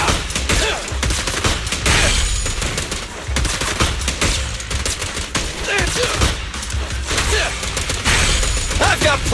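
Rapid automatic gunfire from the video game Zenless Zone Zero, dense sustained bursts with sharp impacts and shattering hits filling the whole stretch, with a voice speaking faintly underneath.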